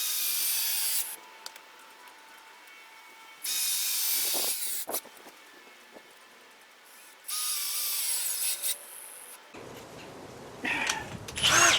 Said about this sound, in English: now I'm securing it with a 2x4 and lag screws